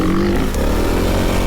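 A Honda CRF300L dual-sport motorcycle ridden off-road on soft suspension and compromise tires gives a steady, loud, close engine drone with rattling and scraping over rough ground, with no talking.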